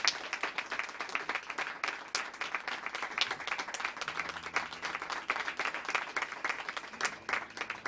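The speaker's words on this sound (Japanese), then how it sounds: "大きな拍手" Audience applause at a live music show in a small venue, steady dense clapping that fills the room without a break and holds at a moderate level.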